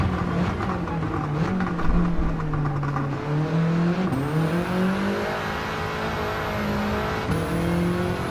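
Race car engine on a track lap in Gran Turismo 7, a steady loud drone that rises and falls as the car shifts through gears and accelerates, with no talk over it.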